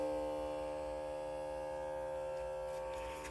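An ANDEMAN automotive EVAP smoke machine leak detector with a built-in air pump runs steadily, giving a constant electric hum and buzz at moderate level with no talk and no change in tone.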